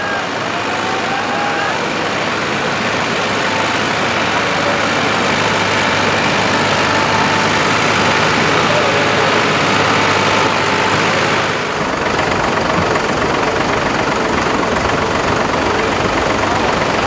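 A four-wheel drive tractor engine runs with a loud, steady diesel rumble, close by and continuous, with no talking.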